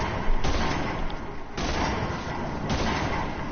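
Video game gunfire erupts in loud bursts of rapid shots, with three dense volleys following one another over a few seconds.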